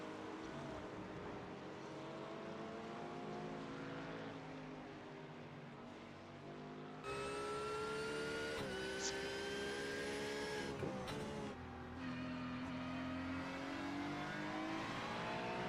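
Ford and Porsche race cars in a sim racing video game drone side by side with steady engine notes, one shifting to a louder, higher whine partway through, sustained without pause.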